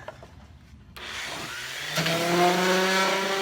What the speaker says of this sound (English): a little sanding would be in order at this point